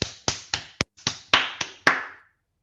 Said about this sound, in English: Can we all unmute ourselves and give the speaker a round of applause?